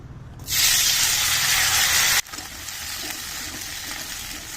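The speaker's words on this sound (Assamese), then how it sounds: "আৰু এইফালে মই কাটি লৈছোঁ পিঁয়াজ আৰু বিলাহী। এইখিনি এতিয়া মই পেষ্ট কৰিবৰ কাৰণে ভাজি ল'ম।" Chopped onion and tomato dropped into hot oil in a pan, giving a sudden loud hiss and sizzle that holds steady, then drops to a quieter, even frying crackle.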